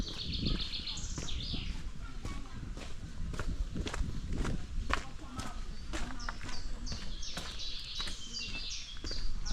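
Small birds sing outdoors near a church tower on Ślęża mountain, with bright repeated chirping phrases, mixed with footsteps and people talking.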